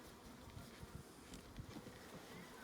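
Honey bees buzz faintly around a newly delivered bee package during installation, a soft continuous droning hum with occasional closer passes.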